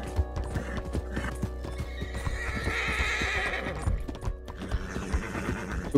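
A horse in Red Dead Redemption 2 snorts and neighs while its hooves clip-clop at a steady walking rhythm, close and fairly quiet, with little else around.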